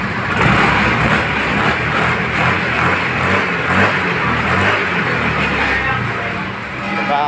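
A Honda MXI 125 motorcycle engine runs steadily just after being restarted, a close, continuous mid-pitched putter with slight swells in level, while people talk over it.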